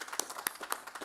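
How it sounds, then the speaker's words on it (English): Scattered, sparse clapping from a small group at a hospital gathering for frontline worker vaccinations, a few distinct claps at uneven intervals, fairly faint. "Regina, come on out and get a round of applause."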